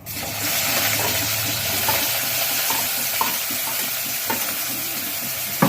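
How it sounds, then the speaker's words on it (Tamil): Garlic, shallots and chopped tomato sauté in hot oil in a pan, a steady close sizzle with occasional stirring scrapes and small clicks, no voices. "வந்து இதை நல்லா வதக்கிடலாம்."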